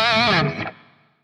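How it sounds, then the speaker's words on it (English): A Gibson double-neck electric guitar with heavy distortion rings out a single gritty chord, loud and close, then decays and cuts off within about a second. "I have to switch to the other guitar really fast and at the same time switch to distortion."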